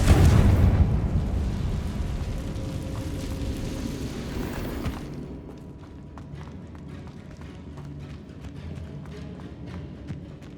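A Confringo fire spell blasting in Hogwarts Legacy, a loud booming burst with rumbling debris that fades over about five seconds into quieter footsteps and faint ambient clicks.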